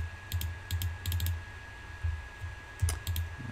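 Computer keyboard keys and mouse buttons click in short bursts of quick, light taps at close range during 3D modeling work, with a faint steady tone underneath.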